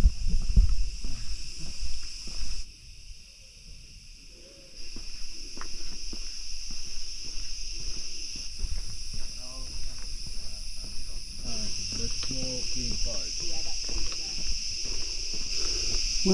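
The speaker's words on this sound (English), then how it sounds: "I don't know if you can hear the bugs." Steady high-pitched insect chirping, like grasshoppers or cicadas, drones continuously on Penang Hill, Malaysia, while people talk and move about nearby.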